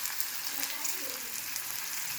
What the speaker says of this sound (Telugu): తాలింపు పెట్టేసిన ఫ్రెండ్స్ చూడండి.